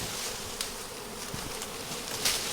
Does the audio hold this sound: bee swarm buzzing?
yes